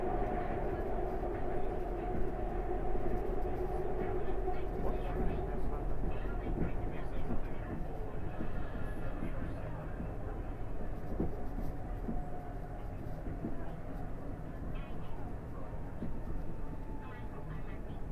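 SEPTA Market-Frankford Line subway train heading to 69th Street, a continuous loud rumble and rail roar with faint clicking and a steady tonal hum throughout, heard from on board.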